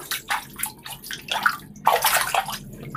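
Water splashes and sloshes in uneven bursts in a bathroom comfort room, with short gushes and pauses as it pours or is scooped, fairly close and with no talking.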